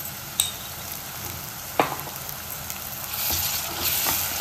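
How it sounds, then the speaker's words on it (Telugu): Ginger garlic paste and onions fry in a pan for a mutton curry, giving a steady close sizzle with a few sharp spatula knocks and scrapes and a louder hissing swell near the end, no voices. "ఇప్పుడు అల్లం వెల్లుల్లి పేస్ట్ పచ్చివాసన పోయే వరకు ఫ్రై చేయాలి"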